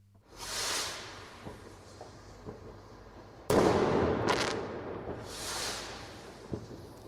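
Fireworks going off near bonfire-season festivities: whooshing launches rise and fade, a sharp loud bang cracks midway with a quick follow-up pop, then another rising hiss trails away, all outdoors with no voices.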